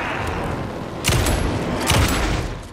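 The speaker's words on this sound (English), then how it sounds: "Can I just shoot him to slow him down?" Two loud booming gunshots fired at an enemy in Alan Wake 2, spaced about a second apart over a steady dark ambient background.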